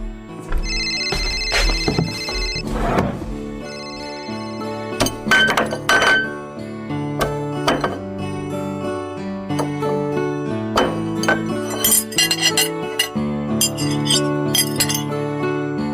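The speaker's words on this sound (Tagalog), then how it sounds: "Ilagay ko na nga muna itong mga plato at kutsara sa lababo para hindi na makalat dito sa lamesa." Plates and spoons clink and knock together as they are stacked into a kitchen sink, bright ringing taps scattered over a steady tinkling phone melody.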